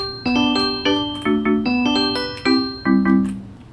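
Minecraft note blocks play a bright, plucked melody from a song in the video game, about nine quick bell-like notes in a bouncy rhythm with short decays, clear and alone.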